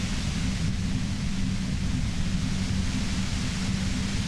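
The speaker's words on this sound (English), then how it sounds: "You hear through the white noise. It's especially bad suddenly." A dense, constant white-noise hiss from the video game Disco Elysium, with a heavy low rumble underneath, steady and unbroken throughout with no talking.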